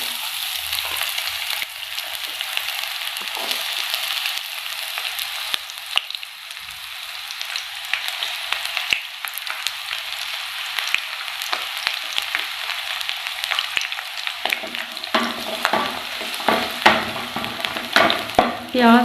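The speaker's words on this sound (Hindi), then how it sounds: "ऑयल हमारा अच्छी तरह से गर्म हो गया। अब इसमें मैं प्याज शामिल कर लूँगी।" Onions fry in hot oil in a kadhai with a loud, dense, continuous sizzle, joined near the end by stirring scrapes and crackles.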